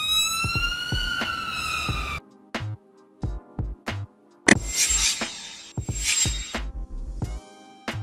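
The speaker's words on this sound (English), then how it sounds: "Ambulance car, a standard ambulance vehicle used for emergency medical response and patient" An ambulance siren wails loud and close in rising and falling sweeps, then breaks into a choppy series of short pulsed blasts separated by brief silences, ending in another burst of wailing tones.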